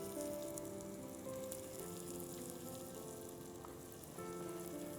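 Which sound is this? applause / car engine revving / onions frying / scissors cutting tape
onions frying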